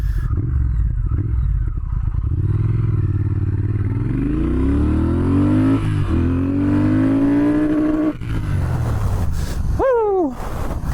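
A Triumph Speed Twin motorcycle accelerates hard from a standstill toward sixty, its loud engine note climbing through rising gear pulls with brief dips at each shift, then a high whine that sweeps upward near the end.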